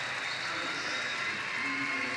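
A crowd applauds and cheers continuously at a London 2012 Paralympic swimming race as a swimmer turns at 250 metres. The applause is moderate and steady, with an echo typical of a large indoor pool.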